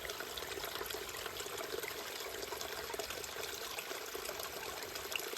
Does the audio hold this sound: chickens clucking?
no